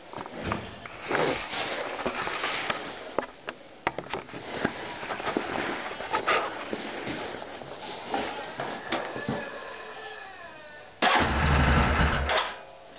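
A 2006 Yamaha Wolverine ATV is cold-started at the first start of the season: a series of cranking bursts and sputters, then the engine catches with a sudden loud, close roar near the end.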